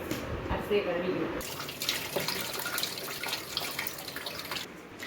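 Running water splashes and swishes steadily as rice is rinsed for chicken biryani, with brief clinks and a quieter stretch near the end.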